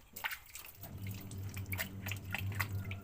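Wild mushrooms being rinsed in a bowl of salt water make soft dripping and sloshing splashes close by, steady over a low background hum.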